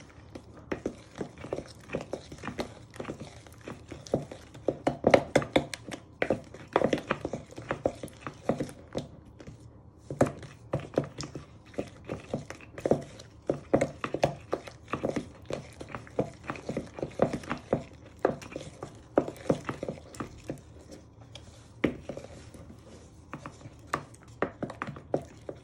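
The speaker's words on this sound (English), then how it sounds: "keep beating it all together so it makes nice cream butter icing" Butter icing for a caramel cake is beaten in a bowl, giving a steady run of quick scraping, tapping strokes that keep going at an even, busy rhythm, close by and moderately loud, with no voices over them.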